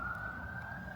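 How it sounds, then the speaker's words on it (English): An emergency vehicle siren holds a steady tone in the distance, faint beneath low traffic rumble, with no voices. "It sounds like more emergency vehicles are heading this way"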